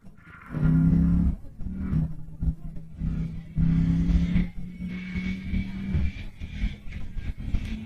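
Ducati Panigale V4S motorcycle engine being ridden on a hot, muggy day, a loud roaring engine note rising and falling in surges with steady harmonic whine, close and continuous.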